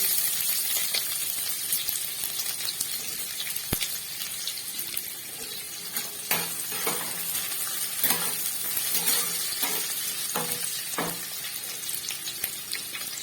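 Chopped onions hit a hot pan already holding ginger and garlic for chowmein, setting off a loud steady sizzle with scattered stirring clatters and scrapes.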